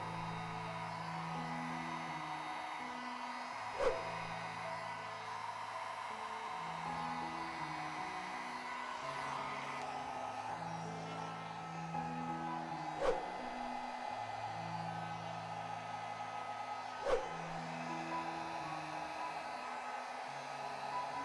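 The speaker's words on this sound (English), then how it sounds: "I am actually gonna use a hairdryer." A hairdryer blows steadily on poured fluid-art paint, a constant close whooshing drone heard alone with three faint clicks spaced through it.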